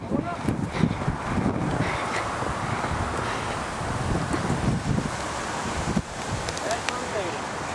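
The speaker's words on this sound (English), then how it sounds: "That wind kicked up hard all of a sudden too." Strong wind gusts roar and buffet the microphone as a tornado forms over South Buffalo, a loud, rough rush that swells and dips, with excited voices talking underneath.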